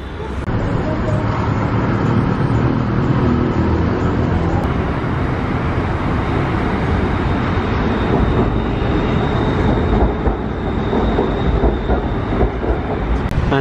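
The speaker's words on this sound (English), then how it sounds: "Just waiting for the BTS train." A Bangkok BTS SkyTrain pulls into an elevated station with a loud, steady rumble and rolling roar that fills about fourteen seconds, close by and with no talking.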